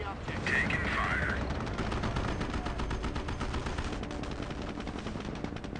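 Rapid machine-gun bursts and rifle fire rattle through a World War II battle in the strategy game Company of Heroes, dense and continuous across the clip.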